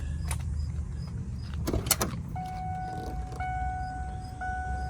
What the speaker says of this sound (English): The door dinger works, that's important